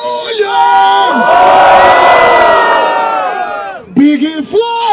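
Loud crowd cheering, whooping and yelling at a Brazilian freestyle rap battle in Barueri, São Paulo, a dense roar swelling for several seconds before breaking into scattered shouts and voices near the end.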